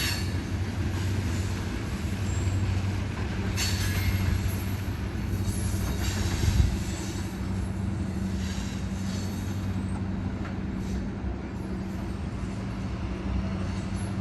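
A freight train led by SD40 locomotives hauling 29 loaded cars climbs a hill steadily past nearby, a continuous low rumble of wheels and rail cars with occasional faint squeals and clanks, no voices.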